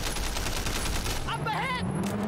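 Dense, rapid gunfire from the action game Sleeping Dogs: Definitive Edition, a loud continuous fusillade that fades toward the end, with game voices shouting over it.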